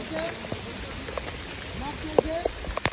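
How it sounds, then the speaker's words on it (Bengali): Steady rain falls outdoors in a soft, even hiss with scattered drop taps, while voices speak briefly and a few sharper knocks break through near the end. "বৃষ্টি হচ্ছে"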